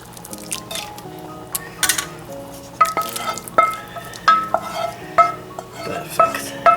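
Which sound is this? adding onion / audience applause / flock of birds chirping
adding onion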